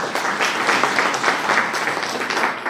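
A seminar audience at a network marketing talk gives steady, loud applause, a dense wash of many hands clapping from start to finish without speech.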